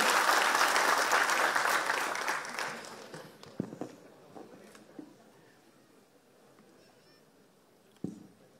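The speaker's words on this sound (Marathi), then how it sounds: "पुन्हा एकदा जोरदार हात वरती आणि जोरदार टाळी" A crowd at a political rally claps loudly for a few seconds, then the applause fades away, leaving scattered knocks and quiet room noise.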